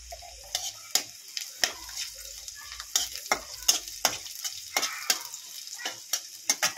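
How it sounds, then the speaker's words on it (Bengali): Garlic cloves, green chillies and whole cumin seeds fry in hot oil for a rohu fish curry, a close crackling sizzle broken by repeated sharp spatula scrapes and taps at an irregular pace, with no voices. "কিছুটা রসুন 10-12 কোয়া, 3টে কাঁচা লঙ্কা ভালো করে একটু ভেজে নেব। 1 চামচ গোটা জিরে দিয়ে দেবো।"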